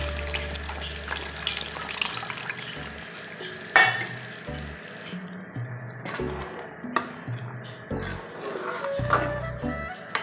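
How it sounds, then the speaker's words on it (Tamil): Tamarind water splashes and trickles into a pan of fish curry amid steady frying sizzle, with clinks of a utensil stirring now and then. "அந்த புளி தண்ணியை நல்லா சேர்த்துக்கலாம்"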